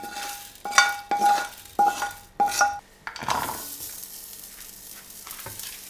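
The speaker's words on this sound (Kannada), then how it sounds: "ಈಗ ನಾನು ಕಟ್ ಮಾಡಿಟ್ಟಿರುವ ನೀರುಳ್ಳಿ ಮತ್ತು ಬೆಳ್ಳುಳ್ಳಿಯನ್ನು ಫ್ರೈ ಮಾಡ್ತಿದ್ದೇನೆ." Chopped onion and garlic fry in a pan: several bright metallic clinks and scrapes of a utensil come first, then a continuous soft sizzle settles in on its own.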